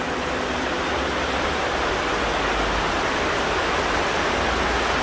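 Steady rain falls on a garden center during spring, a dense, even hiss of drops on surfaces with no voices, constant and close for the whole stretch.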